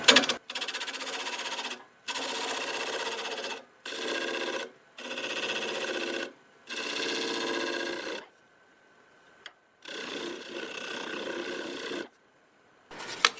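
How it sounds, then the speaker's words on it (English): A wood lathe turning a sequoia heartwood blank in reverse at around 800 RPM: a steady whirring drone with faint tonal whine, cut into several separate bursts of a couple of seconds each, with short quiet gaps between them. "I have the lathe in reverse and we're spinning about 800 RPM"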